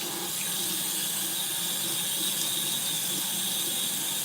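Tap water runs steadily into a sink during handwashing, a continuous close hiss and splash without pause.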